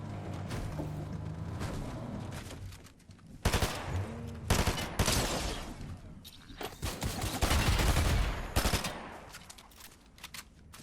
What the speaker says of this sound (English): I'm going to let some gameplay play out using the burst SMG since the update went live